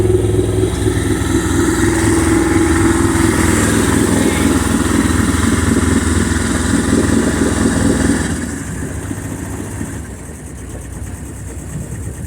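A boat engine runs loud and close during an engine and shift linkage test, holding a steady throbbing rhythm with water pumping, then drops to a quieter idle toward the end.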